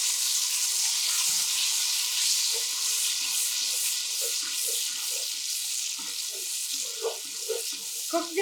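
Tomato and garlic go into hot oil in a pot for an Afghani aash noodle soup, raising a steady, bright sizzle and crackle throughout, with scattered stirring clinks and small pops.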